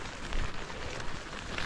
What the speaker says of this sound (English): This is very nice forest, but in a rainstorm, and now a thunderstorm as well